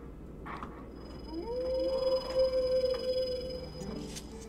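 A cat in the video game Zelda Twilight Princess gives a single drawn-out meow, fairly clear over a steady low game ambience with faint chimes.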